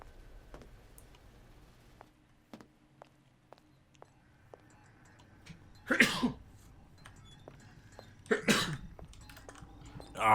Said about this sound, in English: More sneezing.